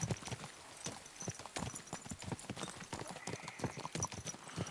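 In Kingdom Come: Deliverance II, steady clip-clopping horse hooves beat at a brisk, even rhythm over a low background hum, fairly quiet and continuous throughout.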